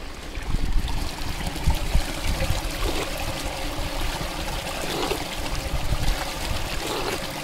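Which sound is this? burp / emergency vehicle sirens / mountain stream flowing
mountain stream flowing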